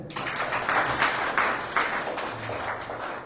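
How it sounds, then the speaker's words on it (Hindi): Congregation at a Sunday evening prayer service clapping together, a steady crowd applause with a faint low voice murmuring underneath throughout. "आप सभी के लिए जोरदार ताली हो जाए।"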